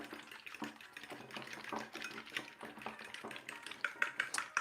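A fork whisks eggs in a shallow bowl, making quick, light, rhythmic clicks and taps against the dish, quiet and close, with no talking.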